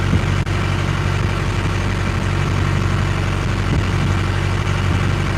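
A boat engine runs loudly and steadily, a constant low droning rumble that fills the whole stretch without a break, close to the listener.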